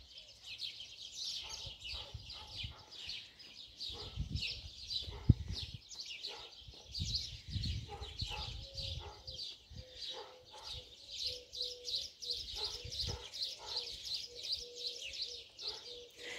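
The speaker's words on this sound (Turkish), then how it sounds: "şu kuş seslerini birebir duymanızı istiyorum" Birds chirp and sing continuously outdoors in a village setting, a dense, bright chorus of overlapping calls at moderate distance, with faint low rustling and thumps underneath.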